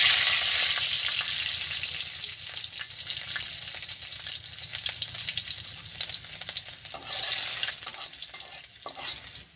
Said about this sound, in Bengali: তেল দিয়ে দিতেছি দেব কয়েকটা গোটা রাঁধুনি আর দেব হচ্ছিল কয়েকটা গোটা রসুন